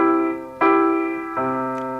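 Piano chords for Amazing Grace: a sustained chord, then the right hand striking twice in succession, ringing notes blending together, solo and close.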